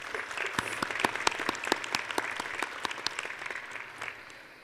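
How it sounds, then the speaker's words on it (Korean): Warm applause from a crowd at a university entrance ceremony, with individual sharp claps standing out above a steady rolling patter that gradually tapers off toward the end. "여러분들 각자를 위해서 한번 그 서로에게 또 여러분 스스로에게 따뜻한 박수를 한번 보내주셨으면"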